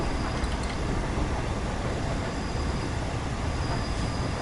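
LNER Flying Scotsman steam locomotive hauling a train with a class 47 diesel attached at the back in the game Train Sim World 6, a steady rumbling roll of wheels on rails at slow speed, with no voices.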